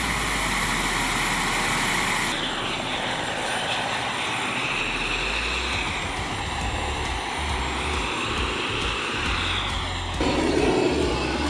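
A giant turbine-powered RC jet aircraft, capable of 300 mph, spools up with a loud, steady whine that sweeps up and down in pitch over a low roar, then surges louder near the end.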